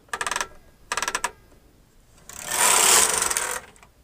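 A knitting machine works the final row at tension 10: two quick bursts of rapid mechanical clicking, then a loud, close, rushing rattle as the carriage slides across the needle bed for over a second. No voices.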